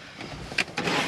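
Electric windows on an Auto-Trail Arapaho motorhome: a brief motor whir from inside the cab, with a couple of short clicks or thumps as the glass moves, close and fairly quiet.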